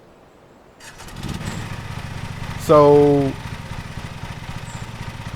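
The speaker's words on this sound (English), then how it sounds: "press and hold Z to start the engine" A lawn mower engine in the Lawn Mowing Simulator game cranks to life and settles into a steady low idle, with a brief louder surge as it starts; a voice speaks briefly over it.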